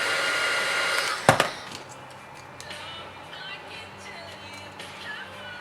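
A heat gun blows light heat during a Samsung A30 phone repair, a steady airy whir at the start, broken by a couple of sharp clicks and taps before the blower fades to a softer hiss under faint handling noises.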